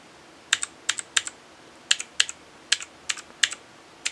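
Fingers typing on a KOLMAX Hunter mechanical RGB gaming keyboard fitted with blue switches, sharp clicky keystrokes in short irregular bursts, close and crisp with a quiet background.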